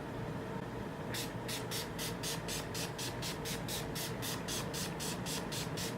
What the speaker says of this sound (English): I use the Urban Decay All Nighter, and I just spray it on.